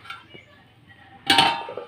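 A metal lid is set onto a pot of boiling crabs with a single loud clatter near the end, after a quiet stretch of faint kitchen noise.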